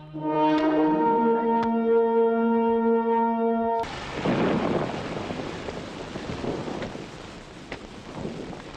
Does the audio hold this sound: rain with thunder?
yes